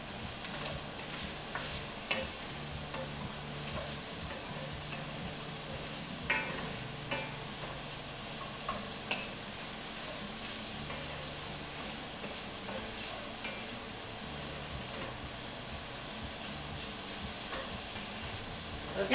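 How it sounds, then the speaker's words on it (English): Onions and carrots sauteing in oil in a pan, giving a steady close sizzle with soft stirring scrapes and a few light clinks throughout, and no voices. "We'll get that all nicely coated in oil, and that will take like a good 5 minutes to saute down"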